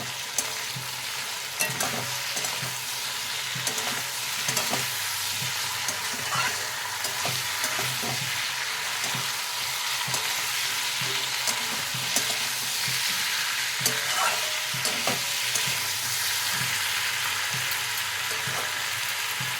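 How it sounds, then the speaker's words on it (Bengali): Tomato and potato fry and get stirred in a pan for lady finger fish curry, a continuous close sizzle broken by repeated scraping strokes of a spoon, with no voices. "ঢাকাটা খুলে এবারে নাড়িয়ে নেব ভালো করে।"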